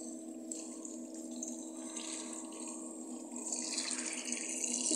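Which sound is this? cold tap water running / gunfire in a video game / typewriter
cold tap water running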